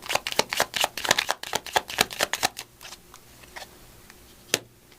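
Affirmation cards are riffle-shuffled up close in a fast burst of crisp flicks and slaps over the first few seconds, then a few scattered soft taps and one final sharp snap, with no talking.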